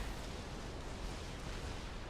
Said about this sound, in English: those explosions did damage to the HQ and the support factory